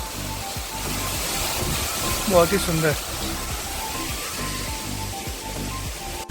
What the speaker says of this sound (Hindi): वाह कितना झरना है, देखिए कितना ऊपर से बह रहा है,